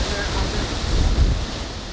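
Sea waves roll in toward an eroding shoreline, a loud continuous surf roar with a deep low rumble that builds and swells midway through, rough with wind buffeting the microphone.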